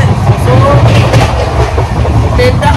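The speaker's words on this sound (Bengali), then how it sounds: "ট্রেনটা এখন বিশাল স্পিডে চলছে" A train travelling fast at about 150 km/h on a Kolkata to Darjeeling journey, with a steady loud rumble and rattle of the carriage throughout, light voices and chatter mixed in.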